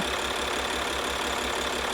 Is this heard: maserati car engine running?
yes